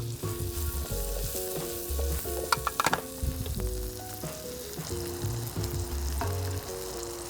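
Tomatoes stir-fry in a pan with a light sizzle and stirring scrapes, set under a tonal musical background that carries through the whole stretch.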